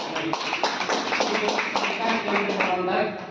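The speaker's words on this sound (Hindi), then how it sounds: "इनके लिए भी जोरदार ताली" A crowd claps loudly and steadily at an event on disaster-safety awareness for people with disabilities, the dense patter continuing throughout with voices mixed in.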